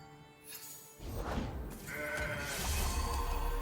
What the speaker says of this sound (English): Okay, another mountain goat.